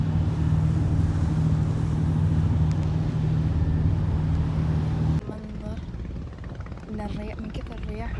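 Strong wind gusts by the sea at Kadıköy, Istanbul, producing a loud, steady roaring rush against the microphone, then easing as a person starts talking over quieter wind.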